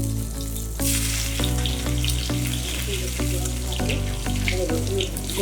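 Garlic added to hot oil with cumin seeds makes a close, loud sizzle, with sharp clatters of stirring at regular intervals over a steady bubbling hiss.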